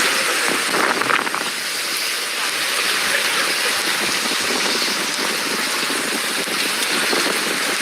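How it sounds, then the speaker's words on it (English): Heavy British rain pours down steadily, a dense, continuous broadband hiss with no break and no voices, loud and close throughout. "This is the most rain I've ever seen in my life."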